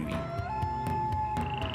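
Frogs croak loudly and close up in a children's story soundtrack, a dense rhythmic series of raspy croaks pulsing over a sustained tonal background with no voices.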